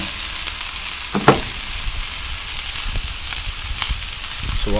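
Onions grill on a camp stove at an overnight campsite, giving a steady, loud sizzle that fills the whole stretch, with a few soft clicks and stirring knocks near the pan and no talking.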